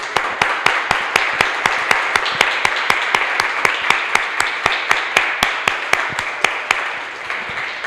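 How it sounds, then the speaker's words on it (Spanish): A church congregation applauding to the Lord in rhythmic unison, sharp regular claps about three per second over a softer background of scattered clapping, fading at the end. "Le damos un aplauso al Señor."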